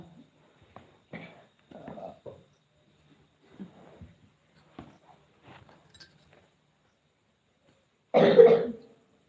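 A few quiet shuffles and faint clinks, then one loud, harsh cough burst near the end.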